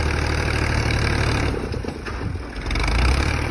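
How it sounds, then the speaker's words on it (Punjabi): A 375 model tractor with a six-foot blade and eleven-tine rear implement idles nearby, a steady low mechanical chug that dips slightly midway and swells again, with no speech. "ਆਹ ਟਰੈਕਟਰ ਦੇ ਮੇਰਾ 375 ਚੈੱਕ ਕਰੋ, ਕੈਸੀ ਗੱਡੀ ਹੈ।"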